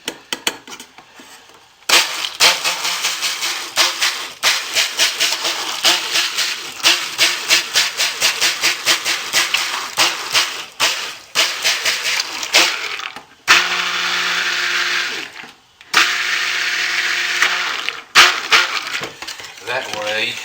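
Oils for soap with TD stirred in by a stick blender, whirring in long steady bursts with brief pauses between them, loud and close, no talking.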